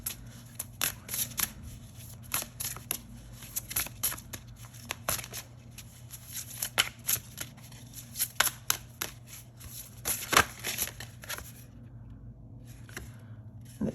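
Tarot cards shuffled and drawn by hand, a run of crisp riffling snaps and soft slides in irregular bursts over a faint steady hum, close and fairly quiet, tapering off near the end.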